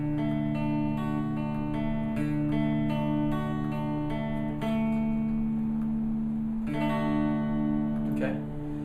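Guitar picked in a looped pattern across strings four to one, notes ringing out in an even, repeating cycle, clear and close, with no talking over it.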